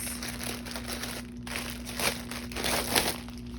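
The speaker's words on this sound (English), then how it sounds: "sorry for all the crinkling" Plastic packaging of a cross stitch kit crinkles close up as it is unwrapped, a continuous rustle with louder crackling bursts near the middle and end over a faint steady hum.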